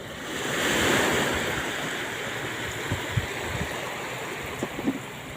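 A strong, swollen river current rushes steadily in a broad, continuous roar, close and loud, with a few soft knocks and splashes near the end.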